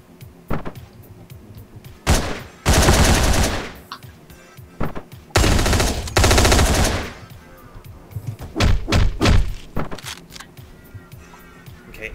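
Rapid automatic gunfire in the video game Hotline Miami comes in two long, loud sustained bursts, separated and followed by single sharp shots and clicks; no talking.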